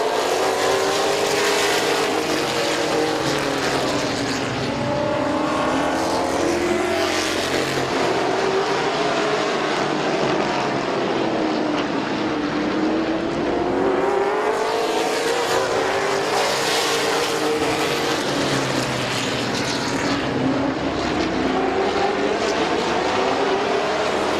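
Race cars circle Midvale Speedway, their engines rising and falling in repeated pitch sweeps as the pack passes through the turns, loud and continuous with no pauses.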